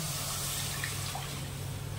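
Water poured into a pan of fried mung dal, a short, fairly quiet liquid splash and trickle over a low background hum, with no talking.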